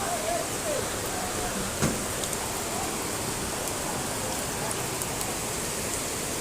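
Heavy rain pours steadily as a dense, even hiss of falling water with no break, close and loud, with faint splashing and a brief thump partway through.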